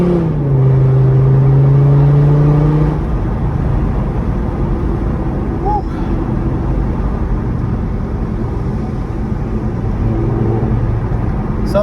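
A Volvo car engine runs steadily and fairly loud and close, with a rising revving whine at the start that eases into a continuous rumbling idle.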